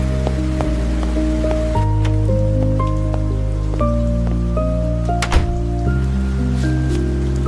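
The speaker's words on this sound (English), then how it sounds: "It rained a lot today, didn't it?" Steady rain hisses on a surface at night in the city, a constant wash of sound beneath a loud, slow synth melody.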